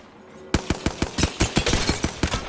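An EVA-8 shotgun fires in Apex Legends, a fast, steady string of about a dozen loud, sharp blasts after a short quiet lead-in.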